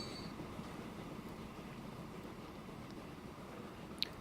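A train running in the game Transport Fever, a quiet steady rolling rumble with faint wheel noise and a brief squeal near the end.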